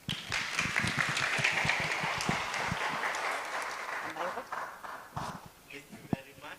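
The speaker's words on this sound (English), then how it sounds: "Let us again have a round of applause to her for the wonderful presentation" Sustained audience applause fills a conference hall after a presentation at an international conference, a dense patter of many hands clapping steadily before thinning toward the end, with a few louder individual claps and some voices underneath.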